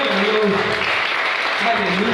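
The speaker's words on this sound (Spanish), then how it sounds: "Dale un aplauso al Señor." Clapping from a church congregation praising the Lord fills the whole moment, a dense steady patter heard under a sustained voice or singing.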